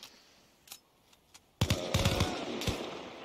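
Gunfire in the ARMA Reforger military shooter game: a few faint scattered shots, then a sudden loud burst of rapid rifle fire with crackling echo that trails off, no talking.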